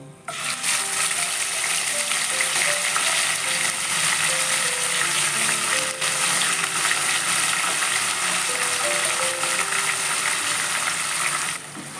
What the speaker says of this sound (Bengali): এবার আমি ওর মধ্যে ম্যারিনেট করা মাংসটা দিয়ে দিচ্ছি